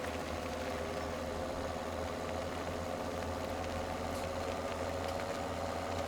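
A combine harvester engine in Farming Simulator 17 idles in a steady, continuous low drone that stays at an even, moderate level for the whole stretch, with no voices over it.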